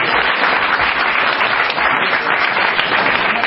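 A church congregation bursts into loud, dense applause during a praise service, continuous clapping from many hands filling the space without pause, with faint voices mixed underneath.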